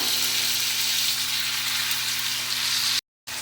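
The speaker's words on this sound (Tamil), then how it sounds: "இப்போ வெங்காயம் வதங்கின அப்புறம் நம்ம வந்து ஏற்கனவே மிக்ஸ் பண்ணி வச்சிருந்த சாதத்தை இதோட சேர்த்துக்கோங்க" Leftover cooked rice added to a pan of sautéed onions fries with a steady, loud, close sizzle that runs without pause, then cuts off abruptly near the end.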